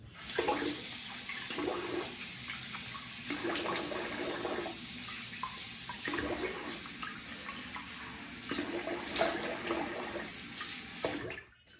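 Running tap water splashes close by as someone rinses after a double-edge shave, in several bursts with brief pauses between them and no speech.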